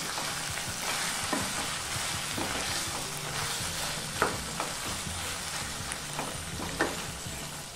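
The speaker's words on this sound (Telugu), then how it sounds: "మనము కీమాని కలుపుకుంటూ ఒక 5 నిమిషాలు ఇలాగే వేపుకోవాలి।" Mutton keema fries in oil with potato and peas, giving a dense, close sizzle broken by occasional sharp clacks from the stirring spoon against the pan, with no talking.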